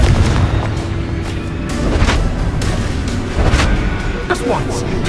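A Confringo blasting spell explodes in the Hogwarts Legacy video game, with repeated booming bursts and crackling impacts over a dense, loud bed of combat noise while spells are being called out.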